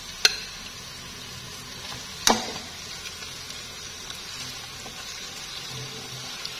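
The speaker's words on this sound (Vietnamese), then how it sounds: "Mình chiên cho nó hơi rám vàng cho nó thơm nè." Steady crackling sizzle of chicken, skin side down, frying over medium heat in a pan with garlic and onion, close up, with two sharp clinks of a utensil against the pan early on.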